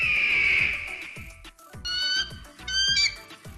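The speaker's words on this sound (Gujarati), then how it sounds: "ગરુડ કેવી રીતે બોલે?" An eagle lets out a series of sharp, shrill screeching calls in short bursts separated by brief gaps, loud and close, with a rapid pulsing rattle beneath.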